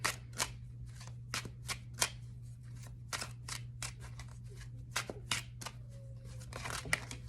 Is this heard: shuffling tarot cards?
yes